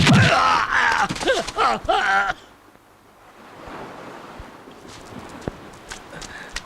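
A horse's hooves clip-clop on ground in a Hindi-dubbed Hollywood action film, heard under a busy mix of loud effects, then continuing more faintly amid wind-like noise.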